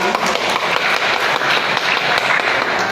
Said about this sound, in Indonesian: Kita berikan tepuk tangan kepada Polisi